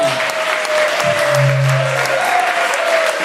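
Audience applause at a magic show, steady close clapping from a crowd that stays loud throughout, with a low hum running beneath it.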